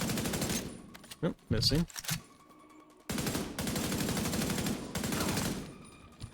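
Bursts of automatic gunfire in The Division 2, heavy rapid volleys near the start and again from about three seconds on, with a short pause between; someone speaks briefly over the shooting.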